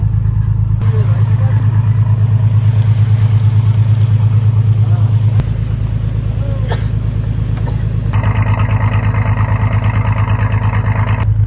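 A launch boat's engine drones loud and steady while crossing a river, a low continuous rumble with faint voices in the background.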